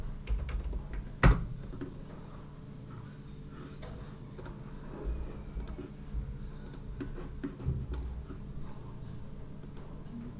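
Scattered light clicks and taps from a computer keyboard as a DAX formula is typed, quiet and irregular with a few sharper knocks.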